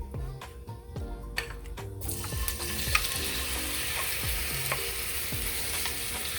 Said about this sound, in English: We're gonna add in the shrimp now, and I have my heat on low.